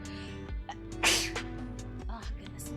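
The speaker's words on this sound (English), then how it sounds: "Now I have to sneeze." A single sharp sneeze bursts out indoors, preceded by a quick breath and followed by a faint exhale, loud and close against a quiet room.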